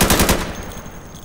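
An M249 machine gun fires in the shooter game Insurgency: a short, loud, rapid burst of shots that quickly fades into a lingering echo.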